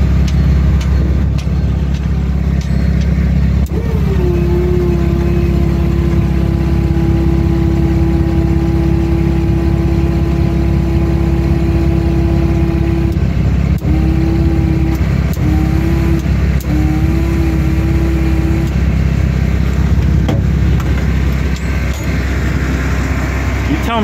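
A vocational county road truck, limited to 55 mph, drones steadily along a highway, its engine holding a constant hum with a faint tonal whine that briefly wavers near the end.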